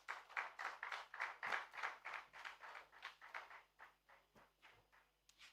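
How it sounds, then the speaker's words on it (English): Rhythmic group clapping from an audience at an award function, a steady beat of distinct claps that gradually softens toward the end. "A round of applause, ladies and gentlemen."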